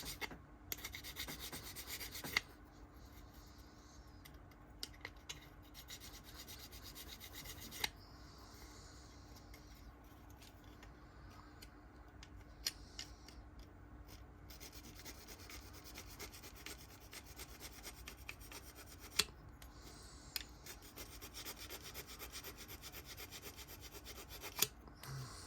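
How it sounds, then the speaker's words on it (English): Plastic parts of a Ryefield Challenger 2 TES model kit being filed by hand, a faint, steady rasping rub running throughout with a few small clicks and taps, no voices. "So, back to some filing"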